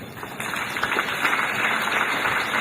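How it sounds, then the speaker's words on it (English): An audience at a memorial lecture applauds the discussants after a discussion, a steady wash of clapping at moderate loudness that holds through the whole stretch. "I would call upon us who have listened to the discussions to give a very warm round of applause"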